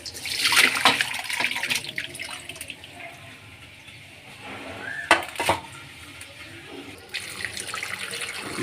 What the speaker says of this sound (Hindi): अब ये पानी हम गिरा देंगे।